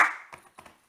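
Part of an Indonesian scout clapping routine (tepuk pramuka): a fading clap, a few light quick claps, then a sharp loud clap at the end, close by without talk.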